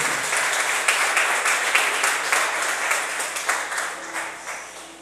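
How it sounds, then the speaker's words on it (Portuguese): Church congregation applauding to welcome someone forward, a dense burst of clapping that slowly thins and fades. "Vamos recebê-lo aplaudido no nome do Senhor."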